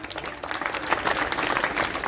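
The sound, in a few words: audience applause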